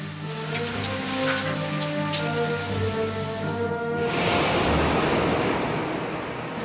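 Italian WWII submarine Barbarigo crash-diving, with a loud, steady broadband rush of sea water and churning surf-like noise that swells louder in the second half, under a low rumbling hum.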